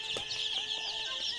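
Sick, thin-legged Sonali chicken chicks cheep nearby in a steady stream of high, thin peeps, with a few louder chirps standing out.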